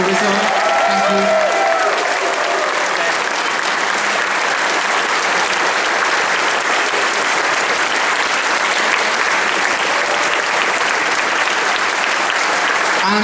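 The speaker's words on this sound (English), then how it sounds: "big round of applause for Rizzo." A large audience at the Confuzzled 2012 closing ceremony claps and cheers in a loud, continuous, dense wall of applause that barely varies from start to finish.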